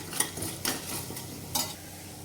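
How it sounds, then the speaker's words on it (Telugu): Coriander, cumin and fenugreek seeds dry-roast in a pan for gongura pachadi, giving close, crisp scraping stirs with faint crackle in a few quick bursts and no voice. "తర్వాత కొంచెం మెంతులు కూడా వేసి ఇవి కూడా కొద్దిసేపు రోస్ట్ చేసుకోవాలి."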